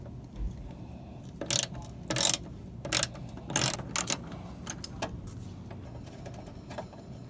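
A ratchet wrench loosens a 10 mm headlight mounting bolt on a car, several quick bursts of close clicking separated by short pauses, then a few lighter isolated ticks.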